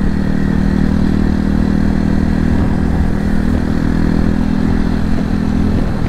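A motorcycle engine runs steadily while riding, a loud continuous drone with clattery mechanical texture and wind rush close up, no talk.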